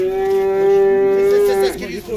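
A dairy cow at a livestock bazaar lets out one long, loud, close moo that holds steady before breaking off, with faint market background behind it.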